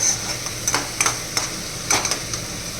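A spoon scrapes and stirs thick fish curry paste in oil in a pot, with several rhythmic scrapes over a steady sizzle.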